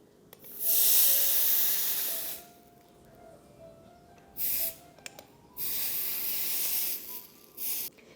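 A hot spoon pressed onto sugar atop a crème brûlée gives several sharp sizzling hisses of varied length, separated by quiet pauses, close and fairly loud.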